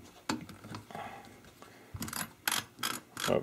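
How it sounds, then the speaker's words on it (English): A Mossberg 500 pump-action shotgun has its pump racked partway back and its barrel knob unscrewed, giving close, quiet mechanical clicks and ratcheting scrapes in uneven bursts with short pauses between. "we're going to rack the pump back about halfway, undo this knob"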